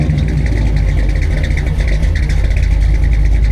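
A 1939 Plymouth with a 350 V8 engine, 650 CFM carburetor and mild cam running close by, a loud, steady, throbbing rumble with a slight lope and no voices.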